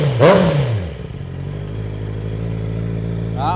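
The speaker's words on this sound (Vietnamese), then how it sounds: "Bô này móc nhẹ nha anh em, hay lắm." A 2021 Honda CBR650R four-cylinder motorcycle with an aftermarket exhaust and about 4000 km gives a sharp, loud rev at the start, then falls back to a steady, throaty idle rumble close by.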